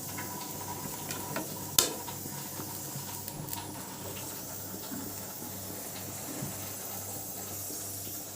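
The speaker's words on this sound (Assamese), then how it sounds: "এতিয়া মই ইয়াতে এই বেঙেনাটো পুৰিম।" An eggplant roasts over a gas stove flame on a wire mesh, giving a faint, steady hiss and sizzle with occasional small crackles and one sharp pop.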